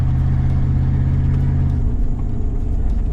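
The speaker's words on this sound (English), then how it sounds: "And she runs and drives. We got first gear. We got second gear." A Chevy Blazer engine, run after driving through water, rumbles low and steady as the vehicle pulls away in first and second gear, close and loud, with a strong droning hum that eases slightly partway through.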